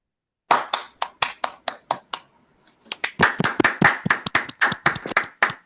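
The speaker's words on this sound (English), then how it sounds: "just give him a round of applause by all unmuting ourselves" Hands clapping from a few online lecture attendees unmuting at once, starting as one person's steady claps and then swelling into dense overlapping applause, close and crisp.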